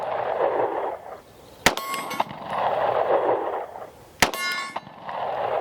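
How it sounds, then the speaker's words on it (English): Two sharp metallic clangs of Springfield Armory Hellcat Pro Comp OSP pistol rounds striking a steel target, each ringing briefly, set apart by a few seconds over a muffled background rumble. "It's hitting for sure, but I don't know where that's hitting."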